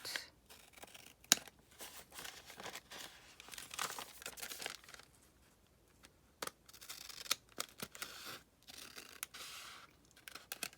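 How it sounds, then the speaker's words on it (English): Scissors cutting paper at a craft table, a run of crisp snips and crinkling rustles in irregular bursts with short quiet gaps, close and fairly faint, no voices. "what I'm going to do is just cut this apart"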